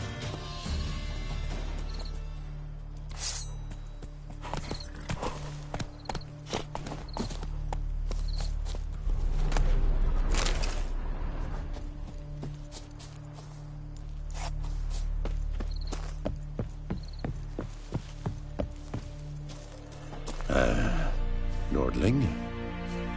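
Horse hooves trot and clop in The Witcher video game. Rhythmic hoofbeats come and go in bursts, with a voice briefly speaking over them.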